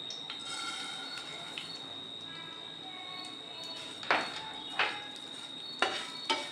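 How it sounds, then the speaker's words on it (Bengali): Semai vermicelli fries over very low heat in a pan, a soft steady sizzle broken by several louder scraping and clinking strokes of a stirring utensil near the end. "সেমাইটাকেও হালকা করে আমি স্লাইট লাল হওয়া অবধি একটু ফ্রাই করে নিচ্ছি"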